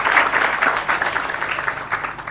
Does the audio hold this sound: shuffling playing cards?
no